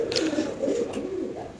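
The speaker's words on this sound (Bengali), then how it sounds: "একজোড়া লাল বোম্বাই কবুতর দেখেন" A pair of red Bombay pigeons with rose crests at a pigeon farm coo steadily and close by, soft low throaty calls rolling on without a break for the whole moment.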